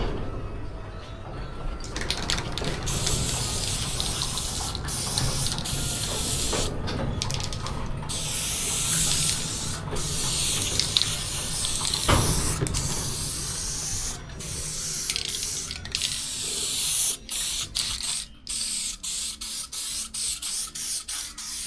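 Aerosol adhesive sprayed onto a piece of carpet while fitting out a 12-volt system panel: long steady hissing bursts with short gaps, close and fairly loud, broken into rapid stop-start puffs near the end.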